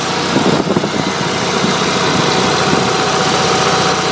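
An Onan propane generator engine runs under a 3,000-watt load with a loud, steady, close mechanical drone and vibration throughout.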